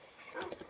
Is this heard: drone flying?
no